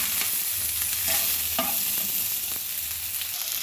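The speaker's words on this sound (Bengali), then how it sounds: "পেঁয়াজ রসুনটাকে প্রথমে ভেজে নিচ্ছি।" Onion and garlic fry in a pan for tarka, a steady close sizzle with soft stirring scrapes on top, loud and continuous with no talk.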